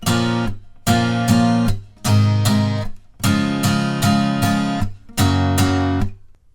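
Guitar strumming a chord progression, sustained strummed chords broken by short muted gaps between them, close and even, no talking.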